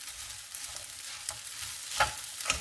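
Sausage fried rice stirred in a hot pan, a steady close sizzle of frying with a few sharper scraping strokes near the end, no voices.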